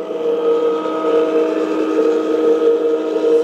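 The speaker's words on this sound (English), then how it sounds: "Here's the engine rolling." Simulated engine from the sound system of a customized 1/14 scale LESU 374F RC hydraulic excavator, a loud steady droning hum with a tonal, whistle-like quality that holds continuously.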